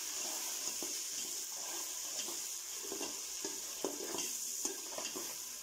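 Ginger garlic paste and tomato are stirred into masoor dal in a pan, a soft continuous sizzle with light scraping taps of a spoon recurring every second or so, close and quiet with no talk.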